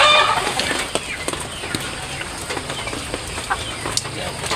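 A brood hen chicken clucks in short, scattered bursts close by, amid other farmyard bird sounds and general background noise.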